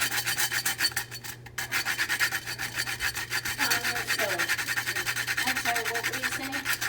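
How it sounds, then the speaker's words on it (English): A nutmeg grinder grates a whole nutmeg with steady, rhythmic dry rasping strokes. The close scratching continues throughout under a faint background hum, with no talking. "This is a nutmeg grinder."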